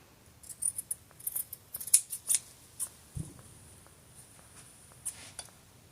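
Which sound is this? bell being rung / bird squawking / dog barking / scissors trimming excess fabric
scissors trimming excess fabric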